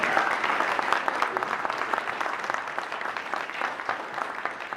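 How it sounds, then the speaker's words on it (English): A crowd applauds steadily, with dense clapping that fills the whole stretch and stays at an even level, no voices rising above it. "How about another round of applause for Mr. Bustamante?"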